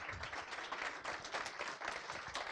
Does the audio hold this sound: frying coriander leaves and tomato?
no